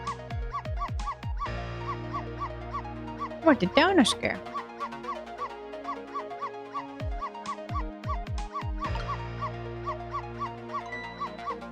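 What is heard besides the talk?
small dog barking in a video game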